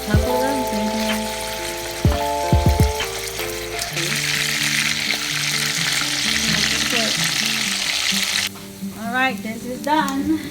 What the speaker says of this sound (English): let it melt its fat in there and get crispy in a couple of minutes.